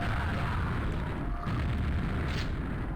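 Grenade blasts in a video game, where an enforcer enemy lobs grenades, merge into a constant loud rumbling roar that stays dense and heavy for the whole stretch, with no quiet gaps between bursts.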